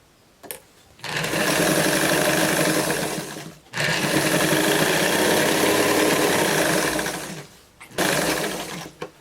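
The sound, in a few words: sewing machine topstitching jeans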